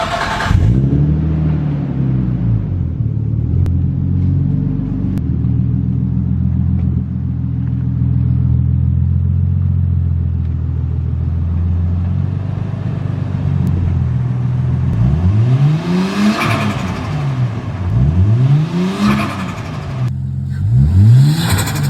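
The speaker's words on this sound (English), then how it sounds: "let's go ahead and show you guys what this blow valve sounds like" Nissan Skyline R34 fitted with an HKS SSQV blow-off valve, the engine idling with a low rumble, then several revs rising and falling, the valve releasing sharp whooshing bursts after the later revs, close and loud.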